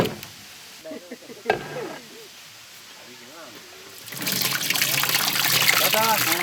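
Fresh mango juice poured, a steady trickling liquid that swells louder in the last seconds, with speech and clattering heard over the pour.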